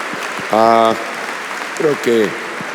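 Congregation applauding during a Spanish-language church service, a steady wash of clapping running throughout with a few brief voices or shouts rising over it.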